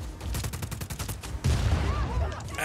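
Rapid gunfire from the video game Just Cause 4: a quick regular burst of shots in the first half, then a heavier, denser roar of blasts and rumble, loud and continuous.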